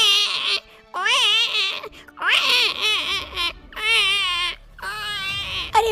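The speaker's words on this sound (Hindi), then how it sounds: "कहीं तो कोई बच्चा रो रहा है।" A baby cries in a series of loud, wailing bursts broken by short gasping pauses, close and unaccompanied by other sounds.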